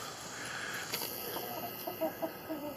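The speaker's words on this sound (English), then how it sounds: "That's a black copper Maran hen." A Black Copper Marans hen clucks in short soft bursts over steady outdoor background hiss, the calls growing a little more frequent toward the end.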